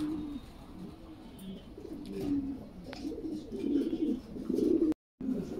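A pair of red Lahori pigeons on a rooftop at dusk give low, throaty coos, repeating in soft, close bursts that grow a little louder toward the end.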